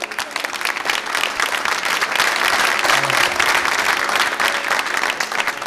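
An audience at a mehfil music gathering gives a warm welcome to a performer with loud, dense applause that swells after the first second and stays full throughout, a brief low murmur faintly underneath.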